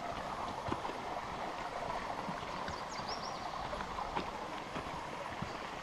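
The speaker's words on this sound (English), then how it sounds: "The waterfall. That's it." Steady broadband rush of a waterfall on the Mount Wilson Trail at Chantry Flats, a continuous wash of falling water with faint scattered splashes and no voices.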